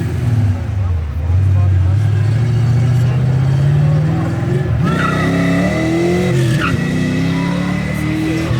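A loud modified Fox body Ford Mustang accelerates away from a car meet at night, its engine rising in a long rumbling rev, then shifting and climbing again as it pulls off, with crowd voices around.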